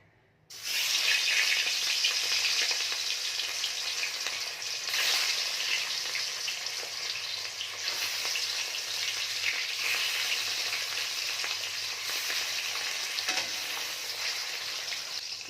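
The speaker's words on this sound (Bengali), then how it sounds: "তেলটা গরম হয়ে গেছে এবার আমি মাছগুলো দিয়ে দেবো" Pieces of large katla fish drop into hot mustard oil and set off a sudden, sustained loud sizzle that crackles and spits steadily for a long stretch, with occasional soft shifts as the fish settles.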